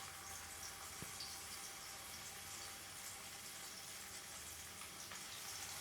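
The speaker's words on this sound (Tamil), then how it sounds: "இப்போ எண்ணெயில் ஃப்ரை பண்ணிடலாம்." Masala-coated eggs fry in two spoons of oil in a frying pan, a steady, even sizzle that holds throughout with no talk, with one faint tap near the start.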